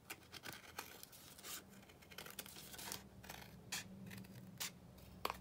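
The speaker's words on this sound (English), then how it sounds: "Let me just now trim this down on the edges." Scissors trimming the paper edges of a Tim Holtz paper doll pop-up flip card, a faint close series of snipping and scraping cuts at an uneven pace, with no talking.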